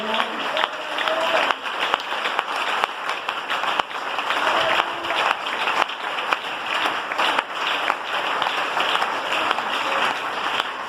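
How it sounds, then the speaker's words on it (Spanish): Sustained applause from a church congregation fills the whole stretch, a dense, even patter of many hands clapping in a reverberant room. "Ese aplauso para el Señor."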